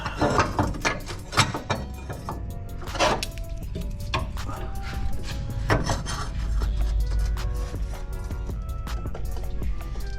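Steel frame plate sliding and scraping into a Toyota Tacoma truck frame, with close metallic rasping, knocks and clanks over several seconds, then a lower rumble. No voices are heard.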